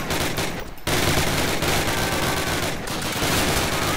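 Call of Duty video game gunfire: dense, loud bursts of automatic rifle and machine-gun fire roll almost continuously, with a brief gap before the shooting resumes at full intensity.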